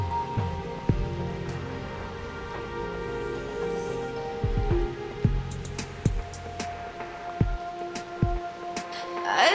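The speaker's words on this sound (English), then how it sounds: "The rain is making too much noise." Steady rain in the game Reverse: 1999, a dense continuous patter throughout with scattered sharper drops and low thuds.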